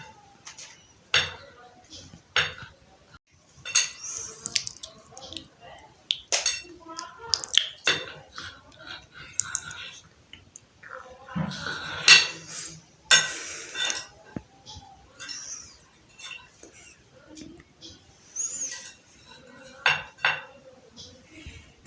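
A knife cutting an eggless, butterless tea cake on a plate, giving scattered clinks and taps of metal on the plate spread through the stretch, with a person talking in between.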